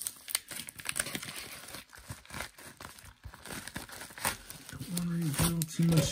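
A taped-up blue mail package being cut and torn open, with crinkling plastic, ripping tape and scattered scratchy rustles coming close and irregular, mixed with speech.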